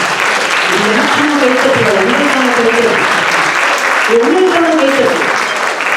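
Sustained applause rises from the audience at a Tamil festival debate, a thick, even wash of clapping at high level. Voices carry through it, with two rising vocal phrases heard over the clapping.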